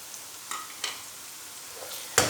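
Garlic fries with lightly browning onions in a pan for a cabbage and pea curry, giving a soft, steady sizzle broken by a few clanks of a stirring spoon, the last one loud and near.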